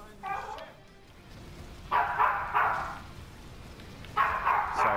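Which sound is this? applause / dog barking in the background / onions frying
dog barking in the background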